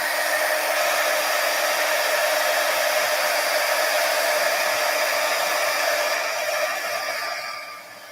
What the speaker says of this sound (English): I'm going to quick heat set these.